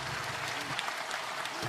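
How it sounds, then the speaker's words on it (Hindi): Soft, continuous clapping from an audience at an honors ceremony where the chief minister presents certificates and medals, fairly faint with a steady patter and no voices. "तालियों के साथ"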